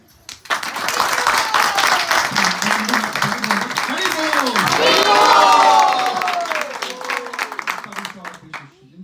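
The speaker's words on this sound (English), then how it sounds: "let's give him one more round of applause for Prabhu" Audience applause and cheering for a devotional speaker, loud clapping that builds to a peak with shouts and whoops from the crowd, then gradually eases off.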